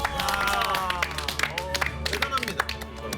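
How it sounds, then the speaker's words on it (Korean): Studio audience clapping on a Korean military talk show, a scattered round of applause under and around a voice, with overlapping speech dominating and claps fading out toward the end. "박수 한번 주세요."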